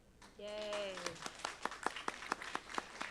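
Sparse, fairly quiet applause breaking out at a college Board of Regents meeting, a handful of distinct claps spreading across the room just after a brief voiced cheer.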